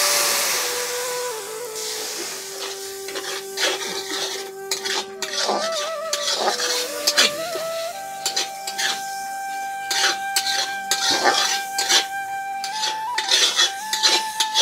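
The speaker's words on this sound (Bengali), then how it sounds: "সামান্য জল দিয়ে আমি সুন্দর করে মশলাটা কষিয়ে নেব।" Spiced masala with cumin and coriander powder being stirred in a pan with a little water, with repeated loud scraping and clanking of a metal spoon against the pan over a steady background hum.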